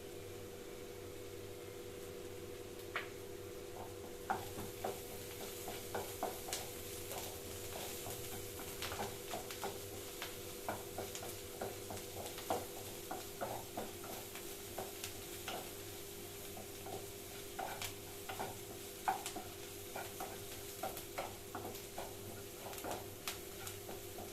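Onions frying in a pan while a spoon stirs them, a faint steady sizzle under regular light clicks and scrapes of the stirring, continuing evenly for a long stretch with no talk.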